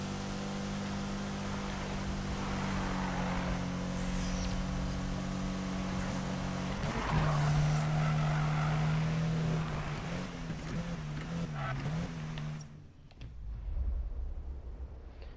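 Nissan GT-R engine in the Need for Speed racing game, a steady loud drone with held tonal hum that surges and shifts pitch midway, then drops off near the end.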